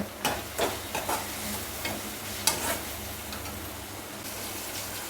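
Tomato and onion softening in a pan for a curry-style mushroom fry, a faint steady sizzle broken by a few short stirring scrapes and clinks near the start and middle, no voices.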